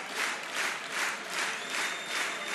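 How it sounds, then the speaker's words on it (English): A concert audience claps in unison to a steady beat, producing loud, rhythmic waves of applause that pulse evenly throughout. "That's how you know it's hype when they start clapping in unison like that."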